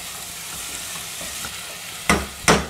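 Tomatoes sauté with garlic, ginger and onion in a pan for a peas gravy, giving a soft steady sizzle that is broken near the end by two quick, sharp stirring scrapes.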